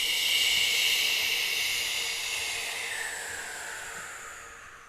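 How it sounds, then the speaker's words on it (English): A long breathy exhale during yoga cow pose: a soft, airy hiss that starts full and slowly fades over several seconds, heard alone without talk. "Exhale with a sound."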